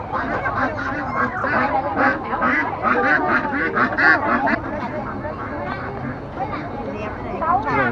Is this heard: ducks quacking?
yes